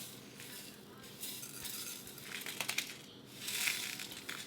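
Chili and mustard seeds dry roasting in a hot pan for a South Indian sambar, with faint scraping stirs and soft crackling, quiet and close, with no talk.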